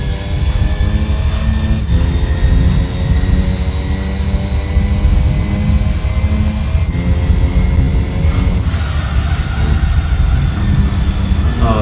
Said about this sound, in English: The sound is of the engine is really deep. It's typical German car on its engine power.